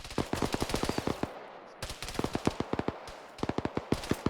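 Rapid bursts of video game gunfire crack out in quick volleys with a short pause partway through, loud and close, with no talk over them.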